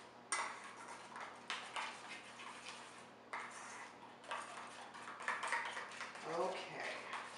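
Egg is stirred into muffin batter in a bowl, with repeated clinks and scrapes of a utensil against the bowl at close range, fairly quiet, alongside occasional talking.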